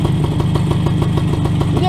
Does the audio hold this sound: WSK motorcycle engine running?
yes